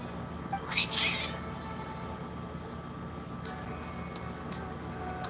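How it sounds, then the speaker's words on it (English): Cats in Genshin Impact give a couple of short, high meows early on, then fade into a quiet ambient background with faint ticks. "Cats seem pretty worked up."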